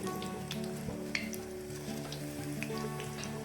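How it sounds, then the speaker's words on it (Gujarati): Gram flour dumplings for chaapdi undhiyu fry in a pan of hot oil, giving a steady, close sizzle with crackling pops throughout and no talking. "ચલો આ રીતે આપણે તળી લેવાની છે."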